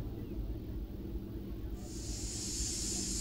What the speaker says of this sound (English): This is the top tricock valve at a normal water level. If you draw a line across here, this should come out as steam.